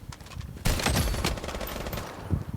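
Rapid automatic gunfire from a shooting video game erupts loudly after a brief quieter start, a dense sustained fusillade of overlapping shots with another sharp burst near the end.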